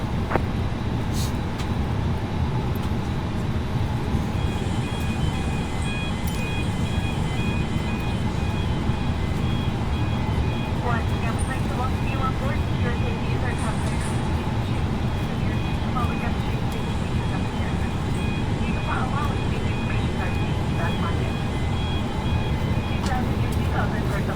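Airliner cabin ambience with a steady low engine rumble through an Airbus A320 pushback and engine start at Kuala Lumpur in a flight simulator, a broadband drone running unbroken throughout, with faint tones and brief clicks layered over it.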